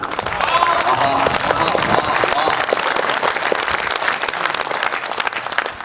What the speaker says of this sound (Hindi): मैंने आपसे ताली बजाने को कहा क्या?